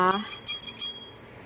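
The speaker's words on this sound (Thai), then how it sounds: "เสียงกระดิ่งแปลกๆหน่อยนะคะ" A small bell rings several times in quick succession, bright and close, at a tarot love reading; the tones fade out briefly after a voice-like low tone at the start.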